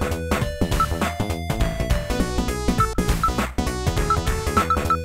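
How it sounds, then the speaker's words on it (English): Funky, busy music from the Records Room in the racing video game Virtua Racing Deluxe, with punchy rhythmic hits and bright melodic notes playing continuously and loud, no voices. "My favorite song in the entire game would have to be the Records Room"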